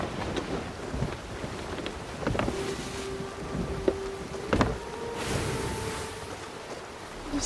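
Wind rushing over a sailing ship in the pirate game Sea of Thieves while heading against the wind, a soft steady gusty noise with faint creaks and a few brief knocks from the vessel.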